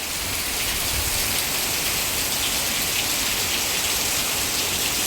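Dense, steady downpour of heavy monsoon rain outdoors, a loud unbroken hiss of drops lasting throughout.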